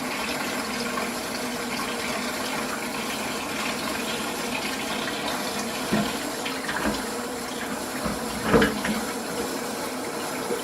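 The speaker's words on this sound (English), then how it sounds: "I'm immediately going to put it inside warm running water to help break it up" Warm tap water runs steadily over a frozen mold to flush it out, a continuous splashing gush with a few louder bursts near the end and no talking.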